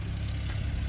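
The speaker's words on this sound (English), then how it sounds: "I hear a tractor." A tractor engine rumbles low and steady at a constant level for a brief moment.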